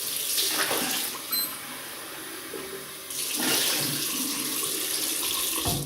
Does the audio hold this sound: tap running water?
yes